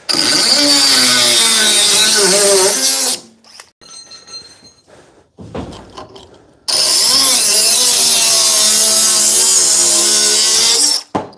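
Loud, continuous high-pitched whine of a cordless cut-off tool, a Dewalt 20V DCS438 or Milwaukee M12 2522, cutting through material in two long bursts separated by a brief quieter pause with rattling.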